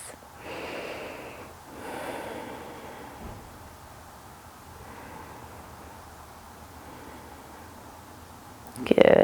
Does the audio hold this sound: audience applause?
no